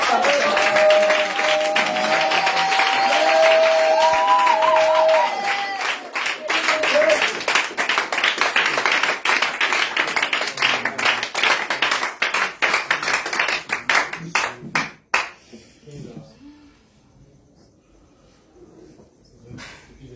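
A church congregation claps and applauds during an evening Friday service, a loud burst of rapid hand claps over music and voices that thins into scattered claps and fades out near the end.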